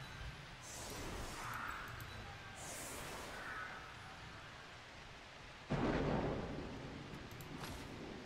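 Rain and thunder weather in the Blood Bowl 2 video game: steady rain hisses throughout while thunder rumbles, then a sudden louder crack of thunder rolls on near the end.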